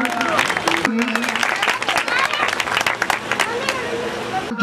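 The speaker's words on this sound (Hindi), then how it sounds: "इस काम शर्मा के लिए जोरदार तालियां" Applause from the crowd at an opening ceremony for a student's work, a busy mix of clapping and murmuring voices with a speaker's voice cutting through at moments.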